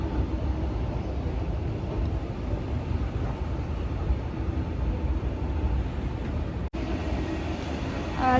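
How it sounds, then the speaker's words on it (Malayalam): A Riyadh metro train pulls into a station as a steady, loud rumble and hum that fills the underground platform, with one brief dropout near the end and no speech. "അപ്പുറത്തെ ലൈനിൽ ഒരു ട്രെയിൻ വരുന്നുണ്ട്, കണ്ടോ?"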